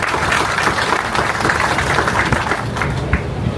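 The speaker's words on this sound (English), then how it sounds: "I'd just like to give these team members a round of applause." Crowd applause for project team members at a police station renovation ceremony in Montego Bay, Jamaica, a dense continuous wash of clapping outdoors, loud and steady throughout.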